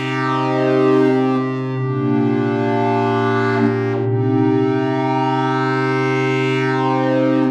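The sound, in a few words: synth pad in Bitwig Grid with filter envelope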